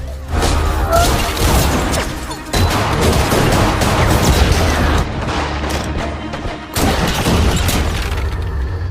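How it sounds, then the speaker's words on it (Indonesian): Loud bursts of rapid gunfire and booming impacts fill the whole stretch, with brief gaps between volleys, like a cinematic shootout. "para pembunuh sudah menyerang. Mads segera membalas tembakan"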